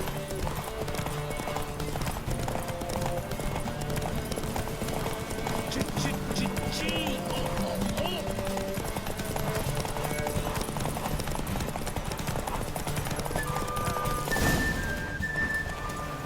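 Steady rhythmic hoofbeats of a galloping horse in The Witcher 3: Wild Hunt run throughout over a busy game soundscape of music and effects, with a brief crash near the end.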